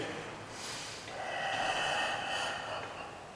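A patient on a treatment table takes a slow, audible breath in through the nose during a deep hip twist stretch, a soft, airy intake that swells and fades over a few seconds.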